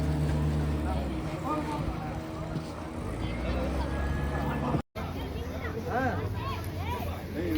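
A boat on the water at Pondicherry, with a steady engine drone and water noise under nearby people talking and general crowd chatter.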